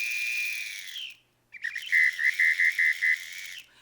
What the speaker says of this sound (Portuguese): Aqui a gente tem, por exemplo, esse apito